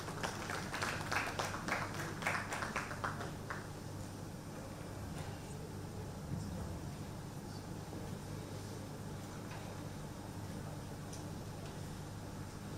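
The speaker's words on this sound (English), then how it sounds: "Round of applause for Greg Paul as the come." An audience at a NIGGSA 2025 event gives a speaker a brief burst of applause that fades after a few seconds into quiet room noise.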